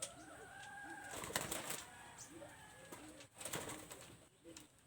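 Soft, low cooing of a pet dove repeats in short murmured phrases, with other bird chirps and faint background noise around it.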